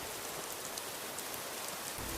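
Steady rain in the video game Skyrim, a dense even hiss of falling drops heard alone at moderate level with no voices.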